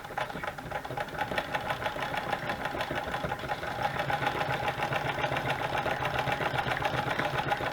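A sewing machine runs continuously on one seam, giving a steady rapid mechanical chatter at moderate level with no breaks across the whole stretch.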